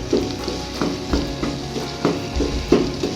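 Egg khagina fries in oil in a pan while a spoon stirs it, with close, steady sizzling and repeated soft scraping strokes about every half second, no voices.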